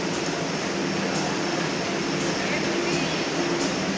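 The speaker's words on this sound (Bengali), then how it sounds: "এই একটা ট্রেন ঢুকছে" A train rolls into a busy station platform, a broad steady roar and rumble with faint rhythmic clatter, fairly loud and continuous, with people's voices mixed in the crowd noise.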